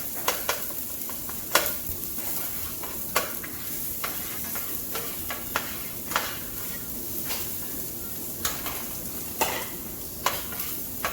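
Half a large onion sizzles and fries in a pan, a soft steady hiss broken by sharp clicks and scrapes of stirring at irregular intervals, with no talking.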